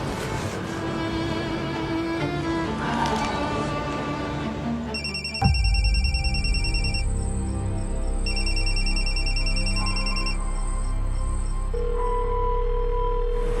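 A telephone ringing unanswered in a television drama scene, electronic trilling rings repeating in bursts over tense background music.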